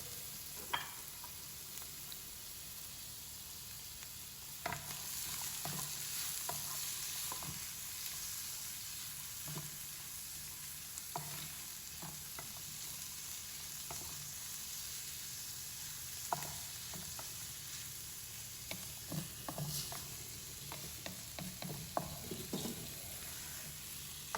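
Tomato and capsicum with other vegetables fry in a hot pan, giving a steady low sizzle with scattered clinks and scrapes of stirring throughout.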